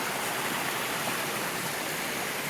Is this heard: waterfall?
yes